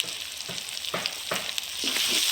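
Shrimp with garlic paste, turmeric, chilli powder, bay leaf and dried chilli frying in a pan, a steady sizzle broken by repeated spatula scrapes and knocks as it is stirred, close up.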